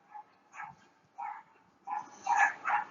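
Dogs give a handful of short barks and yips, fairly faint and somewhat distant, spaced unevenly and bunching together toward the end, with no voices over them.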